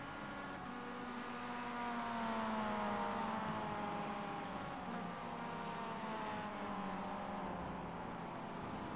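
Mazda MX5 race car in iRacing, the engine droning steadily with a rising and falling pitch as it shifts through gears, faint and continuous with no voices.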